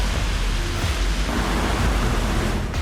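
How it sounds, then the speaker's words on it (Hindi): Heavy rain pours in Dubai, UAE, a steady broadband hiss of downpour with a deep low rumble underneath, continuous and loud throughout with no voices. "संयुक्त अरब अमीरात में एक बार फिर से भारी बारिश शुरू हो गई है"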